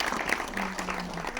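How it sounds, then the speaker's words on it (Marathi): Audience applause for a film team at a Marathi event, a faint, dense patter of clapping heard at a distance throughout. "एकदा जोरदार टाळ्या संपूर्ण टीम साठी झाल्या पाहिजेत"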